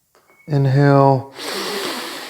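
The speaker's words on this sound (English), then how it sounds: "Long, deep breathing." A deep inhaled breath during a yoga core breathing exercise, starting with a voiced, gasp-like pull of air and easing into a long, steady airy hiss, close and fairly loud.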